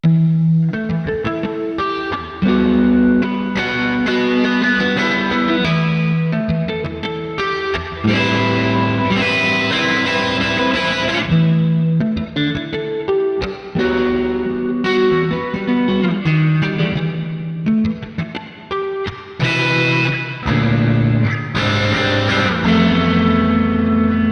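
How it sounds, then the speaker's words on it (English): Electric guitar played through an amp simulator, a loud distorted, effected tone with continuous chords and riffs, no talking. "I'll play through this now with the amp sim on"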